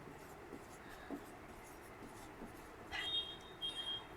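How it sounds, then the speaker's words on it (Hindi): Handwriting with a pen or marker on a board or page, soft scratchy strokes coming in short irregular bursts, faint and close, with a squeakier stroke near the end and a quiet voice in the background. "वर्क डन लिख लेते हैं।"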